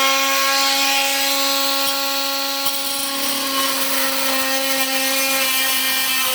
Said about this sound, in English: Another use would be to cut off nails and screws that are sticking out.